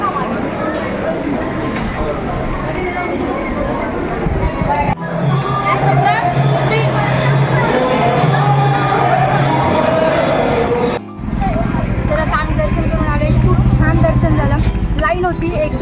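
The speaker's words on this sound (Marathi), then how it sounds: "हे बघा, खूप गर्दी होती." A crowd at the Balumama temple, a steady loud murmur of many voices and bustle, with a person talking over it and a brief break near the end.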